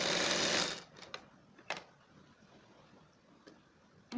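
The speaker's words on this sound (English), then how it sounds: "I'm stitching the pockets around." Sewing machine stitching around the pockets of a half circle dress, a fast whirring run that stops early, then a few faint ticks and clicks in near quiet.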